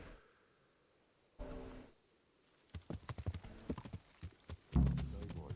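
Horse hooves clip-clop in a video game, a quick uneven run of close, sharp knocks with a whinny-like burst near the end, under a low ambient bed.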